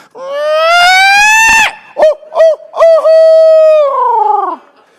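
A man imitates a barred owl with his voice, a loud series of hooting calls: a long rising hoot, three short clipped hoots, then a drawn-out descending call, close and alone.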